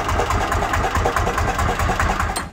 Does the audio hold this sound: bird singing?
no